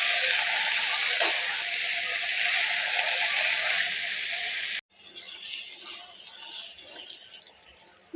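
Spinach and onion with turmeric fry in a pan over a medium flame, giving a loud, steady sizzle that cuts off abruptly and then carries on more softly.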